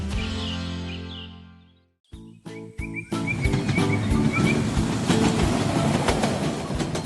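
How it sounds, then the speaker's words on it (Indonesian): A steam train in a 3D animation runs through green hills, a steady rolling clickety-clack rumble after a brief lull and a few sharp clunks, with faint bird calls over it and no talk. "Lihatlah kereta uap itu melaju dengan anggun melintasi perbukitan hijau yang damai."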